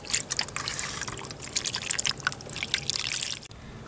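Cold water is poured over boiled palm-fruit dough sitting in a strainer over a plate, a close, continuous splashing trickle with bright dripping for a few seconds before stopping abruptly.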